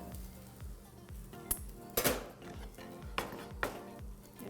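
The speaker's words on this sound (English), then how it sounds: "we'll start cutting squash" A knife slices grilled squash on a cutting board, giving a few crisp knocks and clatters at irregular intervals over a low background hum.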